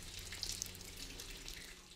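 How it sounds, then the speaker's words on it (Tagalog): Water drips and trickles inside a cave where stalactites and stalagmites form, a faint wet patter with a few brighter drops over a quiet hiss. "Patuloy ang patak ng tubig na nagiging daan para makabuo ng stalactites at stalagmites."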